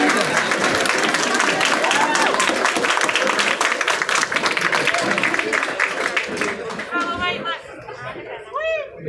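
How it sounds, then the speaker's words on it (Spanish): An audience applauds at an art salon award ceremony, with strong sustained clapping mixed with crowd chatter that thins toward the end, where voices speak more clearly. "Un fuerte aplauso, por favor."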